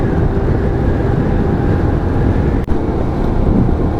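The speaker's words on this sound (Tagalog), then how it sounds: "Lakas ng hangin" Strong wind buffets the microphone on a mountain road trip through Gabaldon, a steady loud rumble of gusts that fills the whole clip, with one brief thump near the middle.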